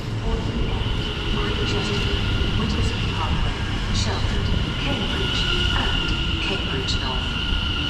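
A ten-coach Greater Anglia Class 720 electric train pulls into a station, its steady rolling rumble and whine filling the scene, with someone talking over it.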